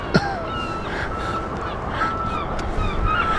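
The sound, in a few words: seagull calling by the Thames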